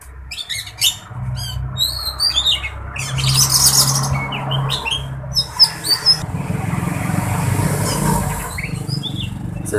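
An Oriental magpie-robin (kacer) sings while set out in the sun, giving bright varied whistles and chirps in quick phrases over a steady low hum of background noise.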